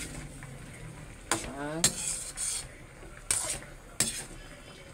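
Vegetables of squash, okra and sweet potato tops with fish being stirred in a cooking pot: a few sharp metallic scrapes and clinks of a utensil against the pot, spaced irregularly over a quiet background.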